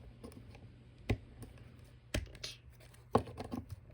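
Plastic joints on a Studio Series Gamer Edition Starscream toy figure being folded, giving a few sharp, close clicks and ratchets spaced about a second apart, with faint rustling handling noise between them and no talking.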